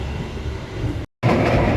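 Rumbling clatter of the Ka Mataram economy train running on the rails between Solo and Jakarta, heard from inside the carriage, loud and steady with a brief cut to silence before resuming.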